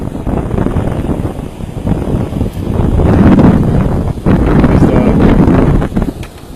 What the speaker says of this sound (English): The waves are crashing.